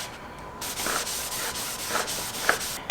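A hand rubs over a white toner transfer sheet pressed onto a surface, a soft, steady scratchy friction with a few repeated stroke swells, quiet and close with no voices.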